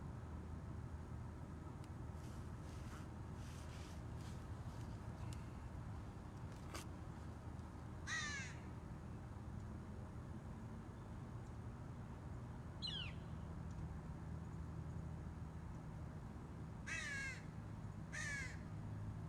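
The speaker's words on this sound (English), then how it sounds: "That's a baby crow." A baby crow caws outdoors in a few separate, fairly distant bursts over a quiet, steady background hum, with long pauses between calls.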